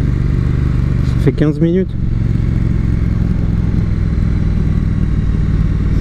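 A Triumph Street Twin motorcycle's engine hums steadily and close throughout, with a brief rising whine partway through, while someone speaks over it.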